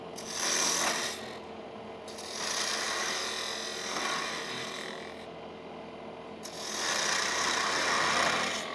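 Wood turning on a lathe with a shear-scraping tool, giving a steady rasping scrape that swells and fades in three long passes, loud and close with no talk.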